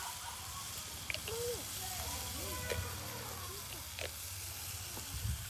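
Vegetables sizzling and frying in a pan, a steady close hiss with occasional stirring clatters, with someone talking faintly in the background.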